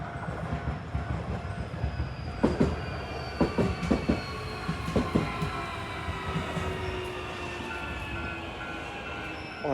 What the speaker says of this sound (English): Here comes another train.